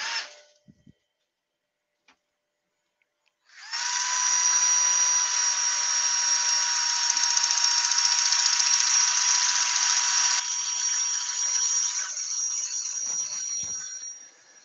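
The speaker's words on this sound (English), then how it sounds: "I'll put a wee bit of dust extraction on here and give" Sanding a wood turning on a lathe with dust extraction running: after a few quiet seconds a loud, steady whirring roar starts and holds for about ten seconds, easing slightly near the end, with no talk.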